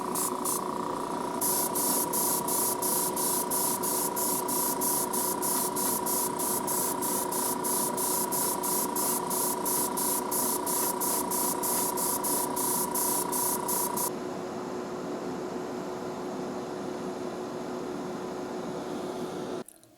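An airbrush or spray gun hisses Quicksilver paint onto a Hot Wheels Flatout 442 model car, a steady loud spray with a rapid pulsing whine over the first part before it settles to a smooth hiss and cuts off.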